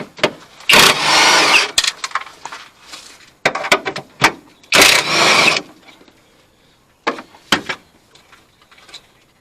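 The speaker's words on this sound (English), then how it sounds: "these bolts here, the 3 that we need to pull off, are all 15 millimeter. Again, use my impact." An impact wrench working on the 15 mm rear strut bolts of a 2007 Scion tC, with two loud sustained rattling bursts separated by shorter clicks and clunks, close up.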